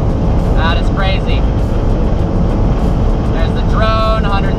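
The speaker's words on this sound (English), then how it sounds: "My window is making noise, even though it's shut." At very high speed in a 740hp Mercedes E63s AMG, a shut car window lets in a constant loud roar of wind and road noise, with a voice speaking briefly over it.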